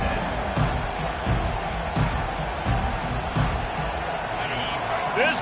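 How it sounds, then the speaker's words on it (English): A stadium crowd in a college football video game keeps up a steady roar of cheering beneath a commentator's voice, with faint thumps scattered through the continuous noise. "This crowd trying to show them what it's going to be like all day in this house."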